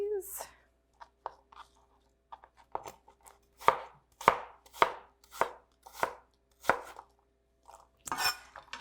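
Knife chopping apples on a cutting board, a series of crisp, evenly spaced thuds that speed up midway, close and clear in a quiet kitchen, with a brief voice at the start.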